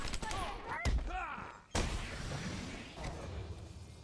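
Gunfire in the video game Batman Arkham Asylum, a few sharp shots and thuds over game music and effects, with a voice talking throughout.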